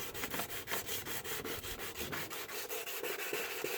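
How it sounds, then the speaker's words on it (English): Rhythmic abrasive scraping on the oxidized plastic lens of a car headlamp, steady repeated strokes at close range with no talk. "You allow this so that it will strip off the oxidized parts of the plastics"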